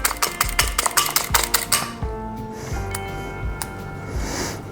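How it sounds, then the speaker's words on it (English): A small wire whisk beats eggs for scrambled eggs in a bowl, giving a quick run of clattering, clinking strokes for about two seconds before stopping, followed by softer metallic clinks and faint kitchen noise. "this is kind of a nice little whisk that I bought a few years ago and really like doing scrambled eggs with that"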